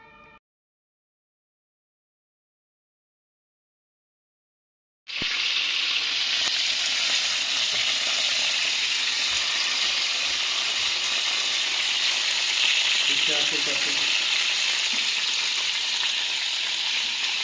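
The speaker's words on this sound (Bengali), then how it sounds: "এটা আমাদের রাতের ডিনার, চিকেন ফ্রাই আর হচ্ছে পাস্তা সস দিয়ে।" Chicken frying in a pan with pasta sauce for dinner, a steady close sizzle that starts abruptly after several seconds of silence and holds evenly loud, with faint stirring under it and no talk.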